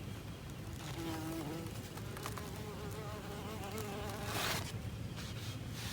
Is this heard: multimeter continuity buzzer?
no